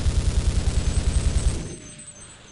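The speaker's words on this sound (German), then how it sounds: "Und ein Geschütz." Rapid automatic gunfire from a gun turret in Half-Life rattles in a fast, steady stream of loud shots, then cuts off and fades into a quiet ringing tail.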